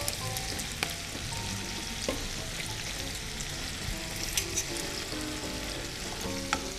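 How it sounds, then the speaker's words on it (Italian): Cooked spaghetti tossed with a spaghetti fork into raw egg yolks for carbonara, giving a steady wet, sticky stirring and slapping texture with soft scattered clicks of the fork, continuous and fairly close. "utilizzate un forchettone da spaghetti e tuffiamo gli spaghetti nei tuorli d'uovo"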